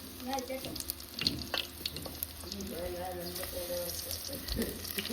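A tempering for patra sizzles in hot oil in a home kitchen, with a soft, continuous crackle and scattered pops under occasional talking.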